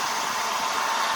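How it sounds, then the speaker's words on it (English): A hair dryer blows steadily and close by while drying craft paint on a painted rock, a continuous loud airy whoosh with no break and no voices. "And then we're going to use our hair dryer,"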